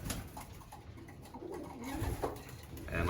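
Pigeons coo steadily in a loft, a soft continuous low warbling from several birds close by, with no talk.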